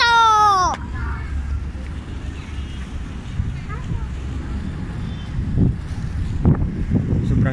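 Steady low rumbling wind buffets the microphone throughout at the rooftop Sky Park of SM Aura, with a brief tonal sound at the start and faint scattered noises later.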